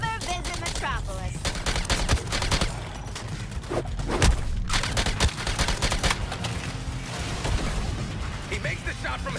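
Rapid bursts of gunfire and explosions sound over game music during a fight in the video game Suicide Squad: Kill the Justice League, dense and loud, with voices speaking over the action.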